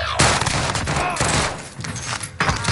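Pistol gunfire in a video game, several loud close shots and bursts in quick succession over a short span, with a brief lull near the end before another sharp report.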